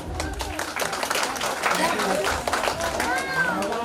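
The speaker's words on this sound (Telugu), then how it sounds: "క్లాప్స్ కొట్టున్నాం." Family members clap together at a gathering, a scattered round of applause heard under people talking nearby.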